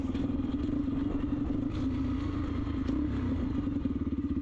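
A motorcycle engine runs steadily while the rider taps down through the gears, a continuous low rumble with faint clatter and small shifts in tone, fairly close and with no talk.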